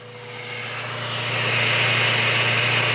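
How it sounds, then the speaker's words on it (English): The engine of a 2000 Honda Civic Si runs with the clutch released, heard close up near the transmission: a steady hum and whine with a low drone, rising slightly and then holding level, with no talk. "Now the engine is running."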